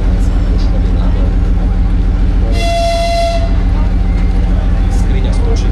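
A Czechoslovak locomotive on six-axle bogies sounds a single loud horn blast of about one second, heard over a steady engine rumble and running train noise, with a voice speaking underneath.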